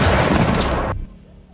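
Gunfire from a pistol duel bursts out loud and dense for just under a second, a sharp blast with rolling echo that cuts off abruptly into near silence.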